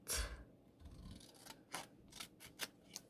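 Scissors snip through paper scraps with a series of crisp, close cuts, a heavier thump at the start followed by several short, quiet snips.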